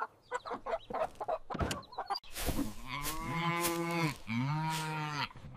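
Chickens cluck briefly, then a cow gives two long, loud moos close by, the second following right after the first.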